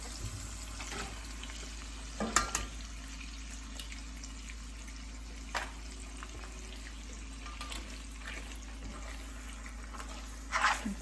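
An egg fries in a pan with tortilla and onion for chilaquiles, a steady low sizzle running throughout, broken by a few sharper clatters and brief pops at the start and end.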